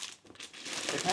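A plastic package bag for a mail-order item crinkles and rustles up close in a quick, continuous burst of handling.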